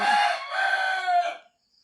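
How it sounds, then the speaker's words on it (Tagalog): A single rooster crow, loud and nearby, a raspy rising-then-falling call that fades out after about a second and a half. "Ginigising na po tayo ng manok."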